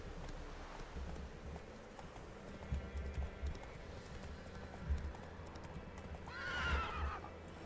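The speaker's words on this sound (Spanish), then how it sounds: "Joder, caballo." In The Witcher 3: Wild Hunt video game, a horse's hooves clop in a low, uneven rhythm before a loud neigh rises near the end, all fairly close with no talk over it.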